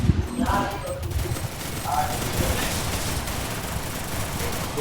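Rapid bursts of game gunfire crackle through a dense, busy mix, with continuous shooting layered over background noise and no clear voices.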